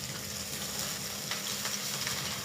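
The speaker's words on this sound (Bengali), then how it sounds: "এবার আমি এটাতে একটু জল দেবো পরিমাণ মতন।" Frying spices for Bengali shukto sizzle steadily after water is added, a close, even crackling hiss with faint stirring scrapes and no voices.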